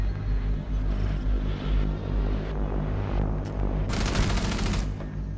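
Rapid gunfire fills a round of Rainbow Six Siege on the Coastline map, a continuous rattling fusillade over a low rumble, with a louder, denser burst of automatic fire near the end.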